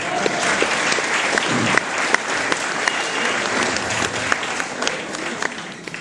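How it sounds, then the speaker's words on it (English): Audience applause at an evening awards gathering in a marquee, a dense steady wash of clapping that holds for several seconds, with occasional sharper individual claps standing out and a slight fade toward the end. "Give him a big round of applause."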